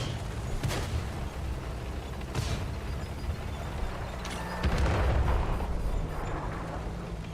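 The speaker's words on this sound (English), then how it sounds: "What an artillery." Artillery shells bursting in the World of Tanks console game, heavy rumbling blasts arriving as several broad bursts, the biggest and longest near the end, over a constant low battlefield drone with no talking.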